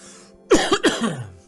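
Two sharp coughs in quick succession, close and fairly loud, followed by a short throaty exhale, with quiet background otherwise.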